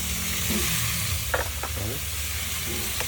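Corn sizzling in a frying pan with a steady close hiss, punctuated by a few scraping stirs of a utensil; no voices.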